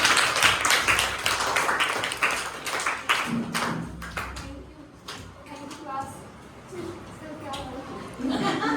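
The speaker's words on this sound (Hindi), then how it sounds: "तालियां बजा दें" Children at a school clap for a teacher in a short burst of taps and claps that fades out, followed by children chattering and talking.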